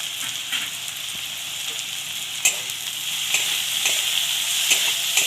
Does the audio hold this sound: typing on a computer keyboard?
no